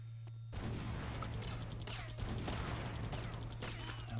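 Bazooka rounds hammer a robot in Army Men: Sarge's Heroes as a dense, continuous barrage of blasts and crashing impacts, loud and close, with a low steady hum running beneath.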